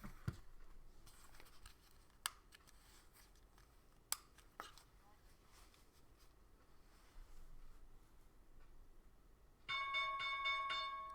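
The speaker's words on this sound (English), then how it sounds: "There's the bell." Opening bell sounding on a live day trading stream, a bright sustained ringing tone that starts late and holds loud to the end after quiet clicks and faint background noise.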